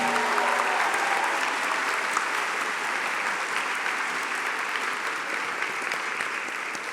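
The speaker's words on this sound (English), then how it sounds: "If we can have a nice round of applause for all of our staff recognees." An audience at a school board of education meeting gives a steady round of applause for recognized staff, a continuous wash of clapping for the whole stretch with no talk over it.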